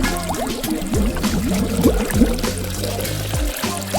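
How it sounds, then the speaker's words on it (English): Water is poured into a miniature LEGO fish tank, a steady close trickle and splash lasting the whole few seconds, with small gurgling bursts as the liquid fills the tiny plastic enclosure. "Just add water."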